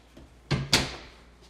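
A house door swinging open and striking a rubber door stopper beside a coat closet off the garage, giving two quick close thuds about a quarter second apart and then quiet.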